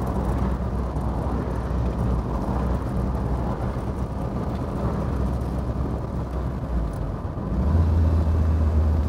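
A 1972 Triumph Spitfire MkIV 1300 with overdrive gives a steady, loud interior engine drone as it slows, with a shift in the low engine tone near the end as it downshifts.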